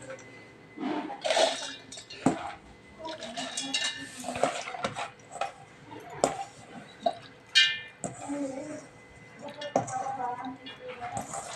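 Soaked mung dal being tipped into a steel mixer jar, with repeated clinks and clatters of the jar, spoon and bowl in a kitchen, with soft voices in the background.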